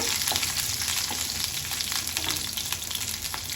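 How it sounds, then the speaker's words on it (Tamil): Fresh curry leaves sauté in hot oil with a dense, steady sizzle and crackle that fills the whole moment, close up and unbroken, with no voices. "கருவேப்பிலையும் போட்டு நல்லா வதக்கிக்கோங்க"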